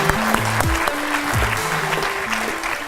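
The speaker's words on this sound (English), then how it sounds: "Round of applause for all of our speakers in that session" An audience claps for the speakers after a session on robots taking jobs, a sustained burst of applause with faint tonal sounds running underneath.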